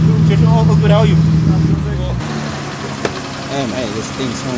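A BMW Z3 engine idles with a low, throaty rumble at a BMW car meet, its tone shifting partway through while people talk nearby.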